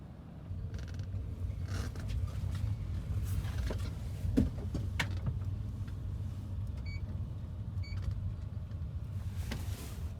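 A car's electric power window motor whirs as the glass winds down, a faint steady hum over quiet engine idle with a few clicks and bumps, no talking.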